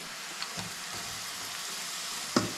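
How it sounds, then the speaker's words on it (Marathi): Onion, coconut and dried fish frying together for a vegetable dish, a spoon stirring through the pan with a steady hiss and a few scraping knocks, one sharper clack near the end. "आता टाकायची नाही, आता ढवळत राहायचं."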